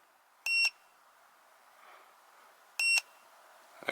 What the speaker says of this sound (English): let's turn this beeper off because that's kind of annoying